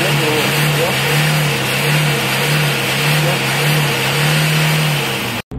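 Steady engine drone and revving of a 2002 Kia Carnival 2 after an emission-reduction device has been fitted, a continuous loud hum with slight swells that cuts off abruptly at the end.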